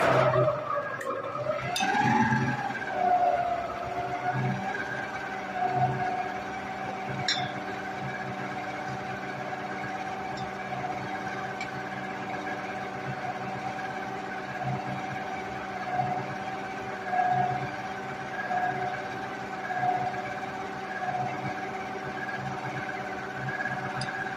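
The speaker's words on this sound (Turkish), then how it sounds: "Şimdi makinemi çalıştırıyorum ve unumu yavaş yavaş üzerine ekliyorum" A kitchen stand mixer runs steadily while flour is gradually added for a trileçe batter, a continuous close motor whine with a pitch dip near the start, then an even drone throughout.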